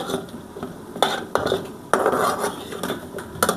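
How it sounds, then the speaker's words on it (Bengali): Potatoes frying in a pot for beef biryani are stirred and turned, producing bursts of metallic scraping and clattering from a spoon against the pot, close and fairly loud, with no talking. "আলুগুলো সুন্দর করে আমি নাড়িয়ে চাড়িয়ে নিব"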